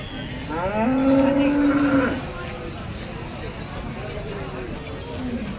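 A Jersey cow lets out a loud, drawn-out moo at the Sangola cattle market, followed by fainter lowing later amid rough outdoor background noise.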